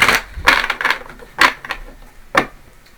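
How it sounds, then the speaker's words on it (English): Tarot cards being shuffled close up: a series of crisp riffling snaps and flutters, coming in irregular bursts. "let me shuffle it once more and get one more card."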